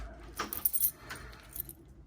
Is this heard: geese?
no